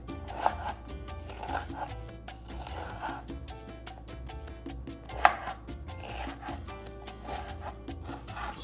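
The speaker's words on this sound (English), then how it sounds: "I'm gonna go ahead and cut up the jalapeño." A knife cutting up a jalapeño on a board, quiet rhythmic slicing and rubbing strokes with a couple of sharper taps, close by and faint.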